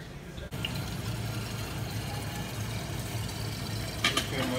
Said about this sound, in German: Soll ich nicht hier noch die Wasserflasche auffüllen?